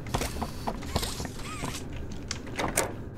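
A door creaks open in Poppy Playtime Chapter 3, a short mechanical groan with small clicks and rattles in a quiet, echoing game space, fairly close and clear.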